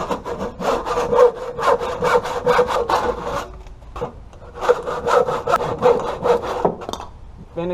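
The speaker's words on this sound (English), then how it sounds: "We're going to finish the cut with a handsaw." A handsaw rasps through wood while cutting a bench piece, in quick back-and-forth strokes, two runs of steady rhythmic sawing with a brief pause between them, close up.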